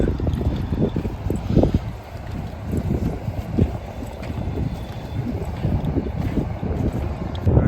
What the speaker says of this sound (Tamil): காற்று செம்மையாக அடிச்சிட்டு இருக்கு.